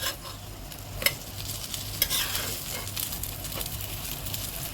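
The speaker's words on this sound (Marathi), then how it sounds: "आपलं फ्राय पॅन तापलाय, त्यावरती आपण तेल टाकूया आणि त्यावर आपण ठेवून घेऊया" Food sizzling steadily in a hot, oiled frying pan, with faint scrapes of stirring and a couple of sharp clicks; close and moderately quiet, no voices.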